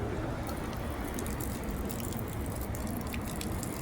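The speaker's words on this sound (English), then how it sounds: "I'm going to open this water so it can get out more quickly. Matter of fact, I even pour it out this time." Water being poured out of a container, a steady splashing gush with a few drips on top, close and moderately loud, continuing without pause and with no voices.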